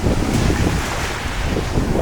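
Steady wind buffets the microphone with a low, rumbling roar, blended with the hiss of surf washing in nearby on a small-pebble beach in southern Bohol, Philippines, continuous throughout.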